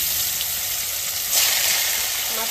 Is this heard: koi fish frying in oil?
yes